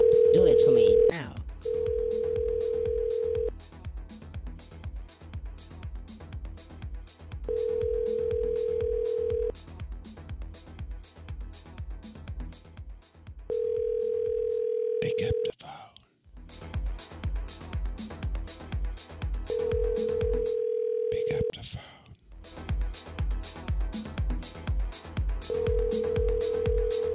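Telephone line connecting a call: steady dial-tone and ringback tones repeat in regular bursts with short gaps, under ongoing background talk throughout.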